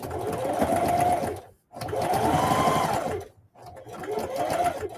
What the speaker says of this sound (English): So I'm only doing half an inch stitch.